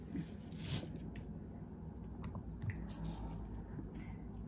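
Apple fritter topping is spooned in soft dollops onto cake batter in a pan, making faint, wet squishing plops and small scraping sounds spread unevenly over a quiet, close-up background.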